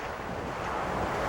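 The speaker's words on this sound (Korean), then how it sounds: "거대한 파도가 굉음을 쏟아내며 집어삼킬 듯 위협하며 달려들었다" Huge ocean waves roar at sea about 150 m off Ieodo during a heavy offshore lift, a dense, loud, continuous rush of surf and wind with no voices.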